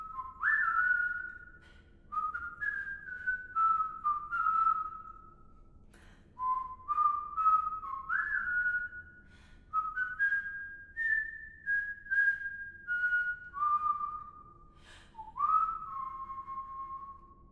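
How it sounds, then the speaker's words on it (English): Tuneful whistled melody of the Skin Deep video game theme, a run of bright sliding phrases with short pauses between them, played alone and clearly with no talking. "Whistling the Skin Deep theme"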